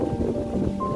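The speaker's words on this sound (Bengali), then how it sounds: "ভালোই ঝড় উঠেছে গো" A strong storm wind blusters close by in a continuous low roar that buffets the microphone, with a faint steady hum running beneath it.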